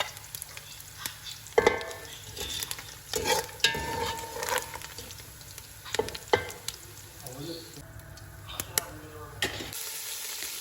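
Food fries in a pan of rendered fat while a utensil clatters and scrapes against it in repeated bursts over a crackling sizzle, close up, with a faint voice now and then.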